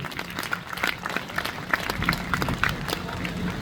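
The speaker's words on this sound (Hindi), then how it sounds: "लास्ट में एक बार जोरदार तालियां बजा दो" An audience at a motivational speech by RPS Group CEO Manish Rao breaks into applause, with crowd clapping mixed with voices and scattered thuds under a steady murmur.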